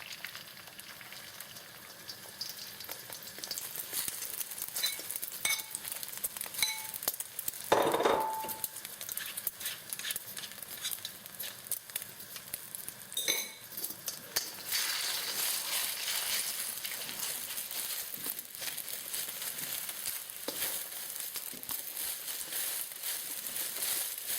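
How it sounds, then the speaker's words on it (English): Eggs quick-frying in hot olive oil in a pan for fried rice, a steady, crackling sizzle throughout with occasional pops and a brief clatter partway through, no voices. "Then quick fry the eggs."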